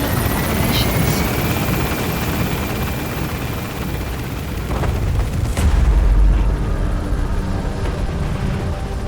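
A helicopter in Metal Gear Solid 5 gains altitude as an extraction aircraft, its loud continuous rotor roar and whine holding steady, with a deep rumbling swell partway through.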